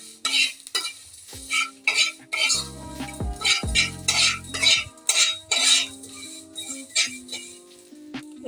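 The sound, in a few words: lightly frying and stirring in a pan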